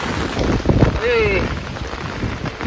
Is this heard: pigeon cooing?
no